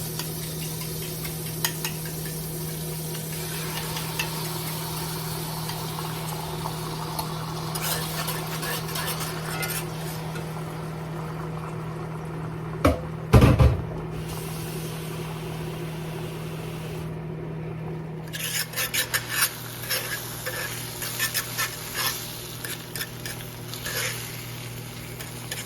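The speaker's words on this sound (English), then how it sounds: "So next we're going to add our eggs so we can scramble them real fast." Eggs are scrambled quickly in a hot pan for a cheap breakfast. A soft, steady sizzle goes on throughout, with scattered ticks and scrapes from stirring and one sharp knock partway through.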